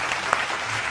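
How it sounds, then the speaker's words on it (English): A short burst of children clapping their hands together in a kindergarten lesson, a dense, fairly loud patter lasting under a second. "Now clap your hands."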